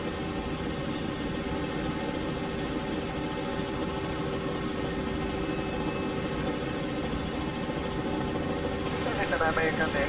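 A Robinson R66 helicopter in Microsoft Flight Simulator VR, with a steady turbine whine over a constant rotor drone that holds at an even level throughout.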